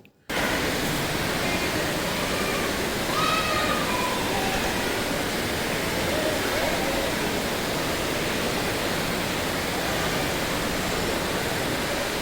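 A strong river current rushes around an island at Kuruva in the Wayanad forest, making a steady, loud, unbroken roar of water that fills the whole stretch, close by and without voices.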